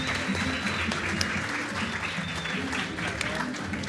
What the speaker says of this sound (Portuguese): Palmas pro Pedrão, galera.